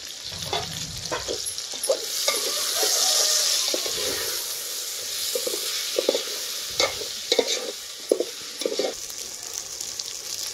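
Curry leaves and chopped coriander dropped into a sambar tempering, a soft crackling sizzle swelling briefly, followed by intermittent stirring clinks and scrapes in the pot, no voices.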